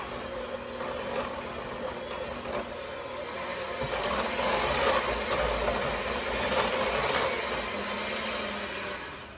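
An electric mixer whirs steadily through cookie dough as baking soda is mixed in, a continuous mid-pitched motor hum that rises slightly in the middle and holds to the end.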